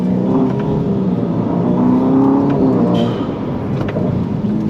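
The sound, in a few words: Ferrari SF90 Stradale engine accelerating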